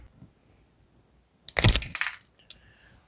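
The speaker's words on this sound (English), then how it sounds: "I can pry with the screwdriver and hopefully have it come right out the front without breaking anything" A worn plastic motorcycle headlight lens on a 250R is pried out with a screwdriver, making a sudden loud cluster of cracking, snapping plastic noises after quiet fiddling, followed by a small click.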